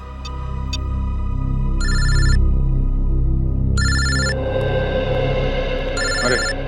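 A telephone rings in several short electronic bursts over a low, steady background hum.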